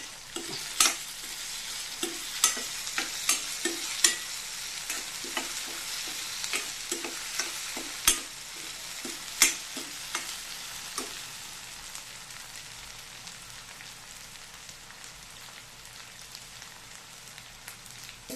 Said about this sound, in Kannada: ಇದು ತರಕಾರಿ ಕೂಡ ನಮಗೆ ಫ್ರೈ ಆಗಬೇಕು.